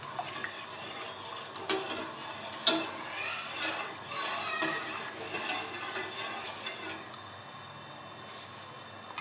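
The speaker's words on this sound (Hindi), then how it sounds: "अब इसको मैं अच्छे से मिक्स कर लूँगी।" Vermicelli custard being stirred in a pot, a continuous close scraping and swishing of a spoon against the metal with occasional clinks, steady and moderately loud, with no talking.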